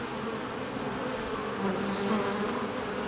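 Honey bees at a hive entrance, a dense continuous buzzing drone of many insects close by, steady in level with slight swells as bees come and go.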